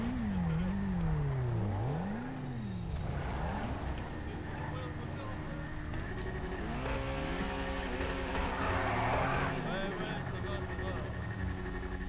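An electric motorcycle revs and whines through shifting pitches in GTA 5, rising and falling repeatedly, with game background sounds and a voice talking over it.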